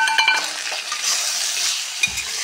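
Potatoes stirred through a ground masala with peas, frying in a pan for a curry served with puris; steady close sizzle with scraping spoon strokes early on, no voices.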